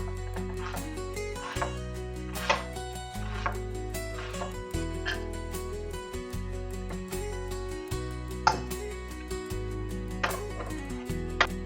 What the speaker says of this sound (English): I'm just chopping it up in